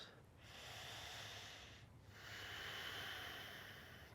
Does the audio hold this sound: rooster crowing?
no